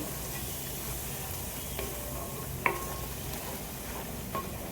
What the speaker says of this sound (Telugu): ఇప్పుడు ఇది మంచిగా ఫ్రై చేసుకుందామండి.